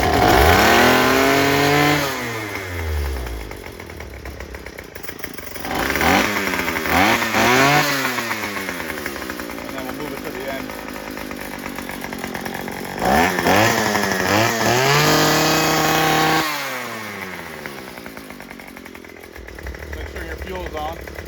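A Craftsman string trimmer's small two-stroke engine sputters and catches after pull-starts, revving up and down in rising and falling bursts, with a brief drop near the middle before it roars again and keeps running loudly up close.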